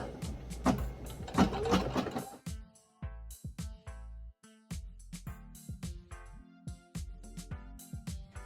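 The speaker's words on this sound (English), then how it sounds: "In order to start embroidering, we just go ahead and we just click this green button and we watch it do its thing" An embroidery machine stitches a design while making a halter top, giving a busy run of rapid mechanical clicks and thumps with short pauses, fairly close and steady, with no voices.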